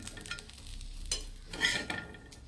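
Fish frying in a pan with salt, turmeric, chilli powder, cumin, pepper and garlic, giving soft sizzling and crackle along with stirring and scraping of a utensil.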